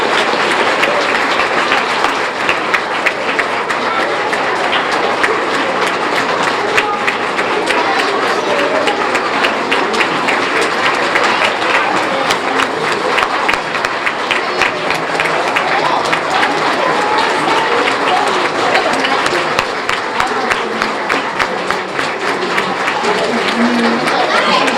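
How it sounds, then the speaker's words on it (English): Sustained audience applause from a crowd welcoming a guest, dense steady clapping that stays loud and even throughout, with a faint murmur of voices mixed in. "Let's give a round of applause for Mr. Khazan."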